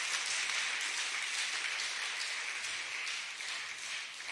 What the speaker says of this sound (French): Donnez-lui une bonne main d'acclamation.